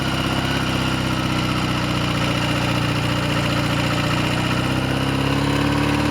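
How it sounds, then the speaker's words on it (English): A BSA A10 Super Rocket motorcycle engine runs smoothly on a snowy road test, a steady, close, continuous drone that holds even throughout with no voices. "the engine feels smooth enough"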